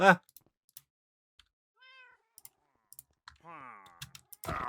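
Cats meowing in the Minecraft game Vault Hunters 1.18: two separate high, drawn-out meows, the second longer and sliding in pitch, amid scattered soft clicks and brief bursts of a voice at the start and end.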